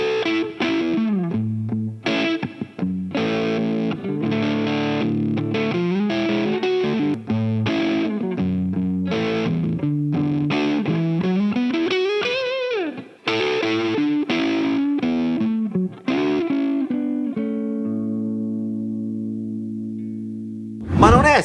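An electric guitar played through a GE Vintage King Fuzz Face pedal gives a thick, distorted fuzz tone. It runs through riffs, single notes and bends, then ends on a long sustained chord that fades before a final hit.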